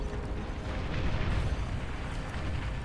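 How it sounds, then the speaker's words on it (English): Bombers drop a rolling barrage of explosions in a real-time strategy game with marauders, a dense continuous rumble of booms layered over low battle noise throughout, with no talking. "here's our bombing run"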